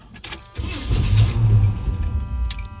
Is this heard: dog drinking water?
no